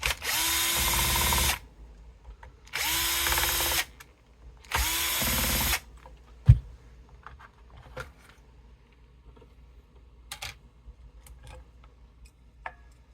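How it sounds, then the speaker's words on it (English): A power driver backs screws out of a Fender USA Telecaster fitted with a Floyd tremolo, sounding as three loud whirring bursts of about a second each, followed by quiet clicks and small taps as the parts are handled. "Let's take those screws out."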